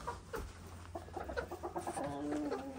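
Barred Rock hens cluck in a farm coop, a run of short, close, fairly soft calls rising into a longer drawn-out cluck, with no talking.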